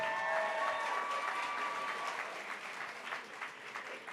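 Audience applause at a live charity auction for Habitat for Humanity of Greater Los Angeles, a steady wash of clapping from a ballroom crowd right after a winning bid, starting full and slowly tapering over a few seconds.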